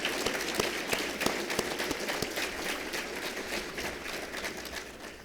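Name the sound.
audience applause at a roundtable luncheon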